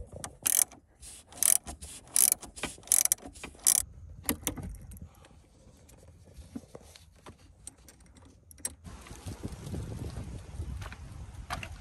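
A ratchet loosens the 10 mm battery terminal nut on a Jeep Grand Cherokee WK2, giving six sharp bursts of close clicking in the first four seconds, followed by softer handling noise and faint rustle.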